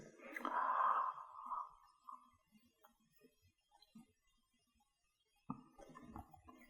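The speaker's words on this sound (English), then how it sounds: "And then yawn, like this." A man demonstrates one long, breathy yawn during a fitness talk on brain-gym exercises, loud at first and trailing off over about two seconds, followed by near-silence before he starts talking again.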